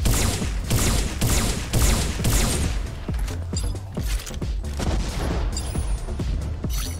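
Machine gun fire from a mecha in M.A.S.S Builder comes as a rapid series of sharp, booming bursts, loud and close, with the shots thinning into scattered impacts and mechanical clanks toward the end.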